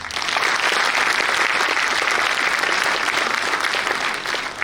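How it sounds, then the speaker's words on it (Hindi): An audience applauds at an engineering organisation's 40th foundation day event: dense, steady, loud clapping that continues for the whole stretch and eases slightly near the end. "और ये ताली आपके लिए बजाए कि आपने ये करके दिखाया है।"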